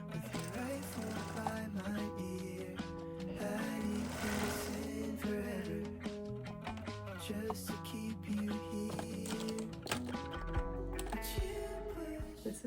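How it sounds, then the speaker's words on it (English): A sewing machine stitching around the sleeve seam of a cardigan made from a thrift-store blanket: a continuous motor whir with a steady needle rhythm, close, with faint background music. "So we're gonna start there and then sew all the way around."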